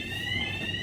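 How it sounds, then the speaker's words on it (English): Fire alarm ringing inside a youth correctional facility in the U.K., a steady continuous electronic tone held at even loudness throughout, with a low background rumble beneath. "They raised the alarm."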